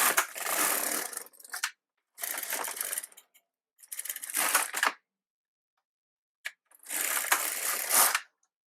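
An LK150 knitting machine runs its carriage across the bed three times, each pass a loud, rasping, clattering sweep lasting about a second, separated by short silences and a few soft clicks, close by, with no talking.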